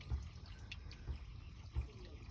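Water dripping from a leak in a garden, a few faint, isolated drops falling at slow, uneven intervals, quiet and close.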